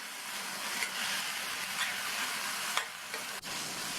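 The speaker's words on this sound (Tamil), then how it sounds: "இந்த கத்திரிக்காய் நல்லா வதங்கி வரணும்" Brinjal sautéing in a pan with salt, garlic and onion for chutney, a steady close sizzle with occasional stirring scrapes and a couple of brief clatters, no voices.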